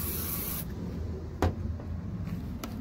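A short hissing burst of WD-40 aerosol spray onto a car headlight opens, followed by quiet rubbing and a couple of brief knocks.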